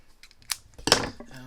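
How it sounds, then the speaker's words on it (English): Scissors snip crochet yarn close by in a quiet room: two short crisp clicks, the second sharper and louder, followed by faint handling sounds and a brief voice at the end. "cut a little bit of yarn that I have left, and fasten off"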